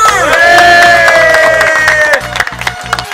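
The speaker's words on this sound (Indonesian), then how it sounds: "tepuk tangan untuk kita semua" A loud crowd at an anniversary celebration cheers and shouts together with sustained voices, then the roar breaks into scattered claps and whoops.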